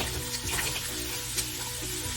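White and red onions sauté with ginger and lemongrass in melted butter, a dense, loud, unbroken sizzle filling the pan with only small crackles rising through it.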